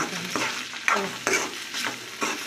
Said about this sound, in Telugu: ఇంకా ఫ్రై అవుతుంది